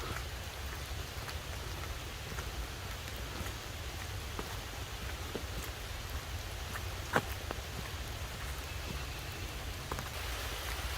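Steady rain drumming on a car roof during a wet, mosquito-plagued camping night, a dense even patter with occasional sharper drops and no talking.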